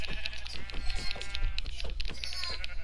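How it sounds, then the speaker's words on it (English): Sheep bleating in a video game, several wavering bleats in quick succession, fairly close and prominent against light background noise. "oh, I found another sheep"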